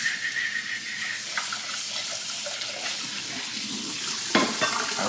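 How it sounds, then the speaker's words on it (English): Hot water runs from a sink tap into a pan being rinsed out, a steady close splashing hiss with a few clunks of the pan, no voices. "Then with the hot water, I rinse the pan out."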